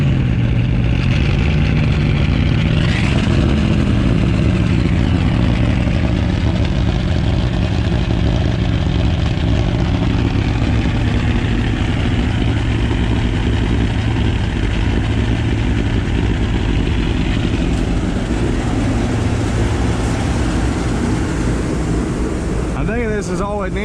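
A 1958 Chevy Biscayne's V8 engine with 1 3/4 inch exhaust gives a loud, continuous roar with heavy exhaust rumble, running steadily close by with a slight rev near the start.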